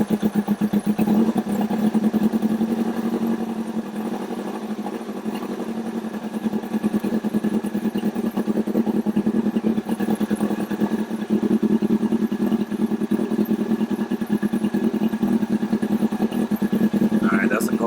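A Yamaha R1 sport motorcycle, started from cold, idles with a steady, close, rumbling engine note throughout, with a voice talking over it.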